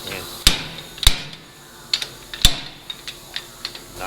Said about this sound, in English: After I loosen it up with the slide hammer